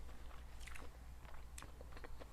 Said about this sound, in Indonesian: Bentar, ngunyah ya guys.